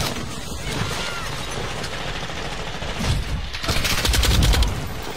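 A Lachmann 762 rifle fires in Call of Duty MW2, sounding as dense rapid automatic bursts that keep going throughout and grow louder and heavier toward the end.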